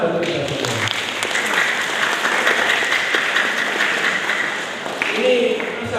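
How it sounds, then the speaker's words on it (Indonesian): Audience applause at a farewell ceremony for teachers at MAN Insan Cendekia Padang Pariaman school, a steady, dense clapping from a full hall that holds at one level for several seconds. "Tepuk tangan untuk kita semua."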